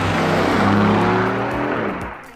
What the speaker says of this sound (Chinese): 这个年头连法拉利都哑了，但 Vantage 还能有这样高亢的声浪